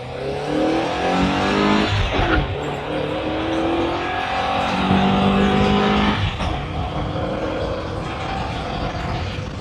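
A 1983 Porsche 944 with a manual transmission revs and accelerates hard through several gear changes, loud and close, with harmonic whine rising and dropping and faint tire squeal mixed in.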